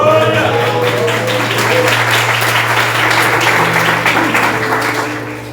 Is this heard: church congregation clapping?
yes